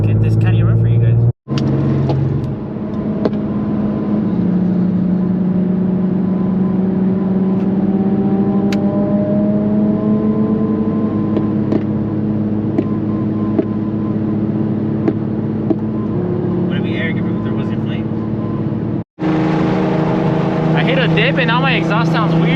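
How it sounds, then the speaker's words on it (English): An Infiniti Q50 engine with a loud Tomei exhaust drones steadily, the exhaust rumbling and rising in pitch as it revs on a canyon road, with brief cutouts; people talk over it throughout. "now my exhaust sounds weird"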